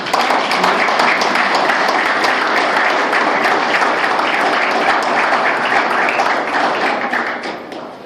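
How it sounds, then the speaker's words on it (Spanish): A seated audience at a formal panel event applauds a speaker with sustained, dense clapping that stays loud and even before tapering off at the end. "Un aplauso al profesor."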